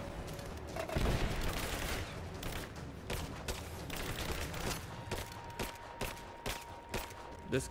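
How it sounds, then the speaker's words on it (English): Rapid bursts of gunfire from enemies in Rise of the Tomb Raider, sustained volleys with sharp repeated shots crackling throughout, loud and dense with no talk over them. "I'm taking fire"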